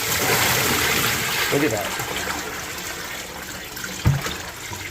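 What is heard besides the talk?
pouring dirty water out of aquarium sump sponge filter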